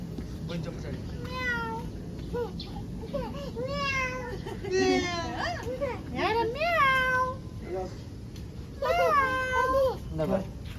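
A cat meows repeatedly, rising and falling cries spread through the clip, over steady background noise with a person calling softly.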